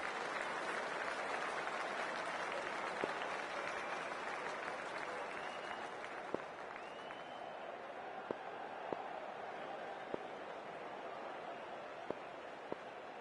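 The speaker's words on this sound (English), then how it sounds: "And the crowd's bubbling away around the SCG." A large cricket crowd at the SCG for a Big Bash League match between the Sydney Sixers and Sydney Thunder keeps up steady, distant applause and crowd noise, with a few sharper claps standing out.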